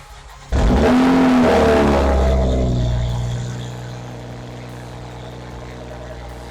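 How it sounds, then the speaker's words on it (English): A Toyota Mk5 Supra with an HKS full catback exhaust cranks on a cold start and fires into a loud, sudden roar, its revs then settling down to a deep, steady burbling idle from the exhaust. "Mk5 Supra HKS full catback exhaust"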